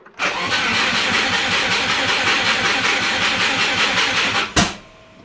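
A DIY turbocharged Subaru engine cranks over steadily and rhythmically for several seconds without catching, loud and close, then cuts off with a sharp clunk.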